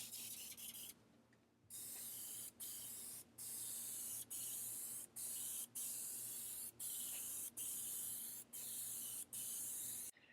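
Close, loud hissing bursts of an aerosol spray can applying gloss topcoat to a wheel, about ten long sprays in a row separated by short regular pauses.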